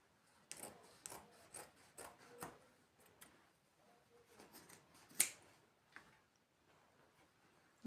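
Fabric from old trousers is being cut for a patchwork bag, with a series of close, quiet snips and rubbing scrapes in an irregular rhythm and no talking.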